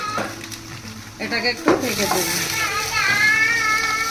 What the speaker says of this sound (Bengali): ঢেকে দিয়ে ভাজা হতে দেবো।